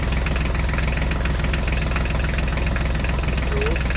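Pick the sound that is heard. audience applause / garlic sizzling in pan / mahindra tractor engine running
mahindra tractor engine running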